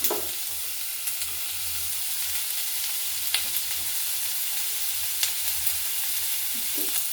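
Food for an egg recipe frying in a pan gives off a steady, close sizzle with soft crackles and occasional small pops, continuing evenly without any talking.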